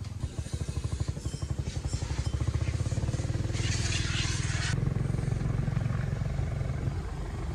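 A motorcycle engine idles close by with a fast, regular pulsing throb, the beat holding steady throughout with no talk over it.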